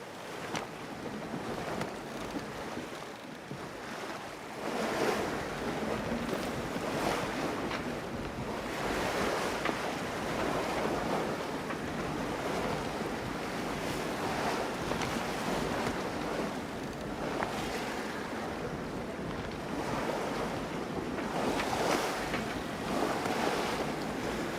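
Boat sailing across ocean waves in the video game Len's Island, a continuous wash of surf and wind rolling in slow surges, fairly loud and steady, with no voices.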